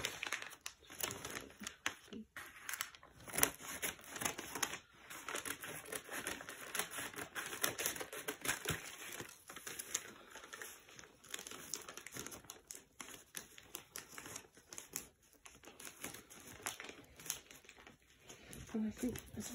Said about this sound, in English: the gift wrapping has commenced